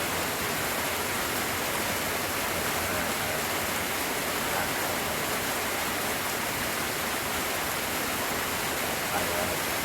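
Steady light morning rain falling, an even, continuous hiss that stays at the same level throughout with no distinct drops or voices.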